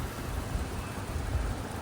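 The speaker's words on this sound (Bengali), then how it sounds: "বাইরে বৃষ্টি" Steady rain falls outside a moving train, a dense, even wash of noise heard from inside the carriage, fairly faint, with no voices.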